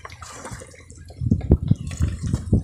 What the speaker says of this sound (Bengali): একটা নৌকাটার পানি নিয়েছি